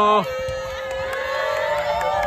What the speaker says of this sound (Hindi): वो लोग चिल्ला रहा है हेलो